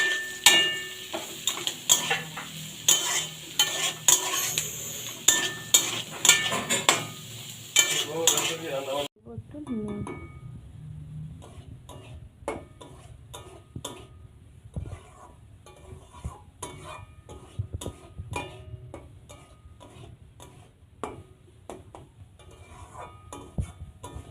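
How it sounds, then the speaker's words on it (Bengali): Beans and capsicum frying in a pan with constant stirring, busy clicks and scrapes over a bright sizzle at first, then quieter, sparser spatula taps and a low simmer. "দিয়ে দিচ্ছি বিনস, দিয়ে দিচ্ছি ক্যাপসিকাম। সবগুলো একটু ভেজে নেব ভালো করে।"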